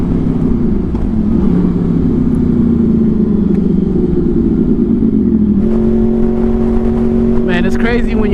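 A Honda VFR800 motorcycle engine drones steadily while riding, pitch sliding down and then rising again as it shifts, loud and close, with someone talking over it and wind noise throughout.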